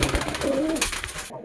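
A pigeon gives a short, low throaty coo, close and clear over a steady background hiss, lasting about a second.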